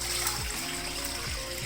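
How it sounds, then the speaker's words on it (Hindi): Water pours steadily into a kadhai for boiling chicken, a continuous splashing trickle that is close and moderately loud, with no voices. "तकरीबन 3 गिलास के जितना इसमें मैं पानी डाल दूँगी"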